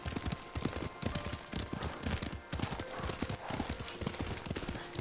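Rhythmic clip-clop of a horse's hooves at a steady gallop while riding in the Ghost of Tsushima video game, close and continuous, with faint background game sounds.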